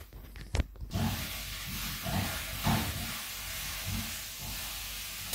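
Butter melting in a hot pan with chicken leg pieces for a steamed roast, giving a steady close sizzling hiss with a few sharp crackles and pops over a low rumble.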